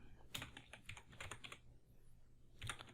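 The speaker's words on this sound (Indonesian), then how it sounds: "Terus saya ketikkan elektronika." Fingers type the word "elektronika" on a computer keyboard, quiet and close, in a quick burst of clicky keystrokes, a short pause, then a final tap.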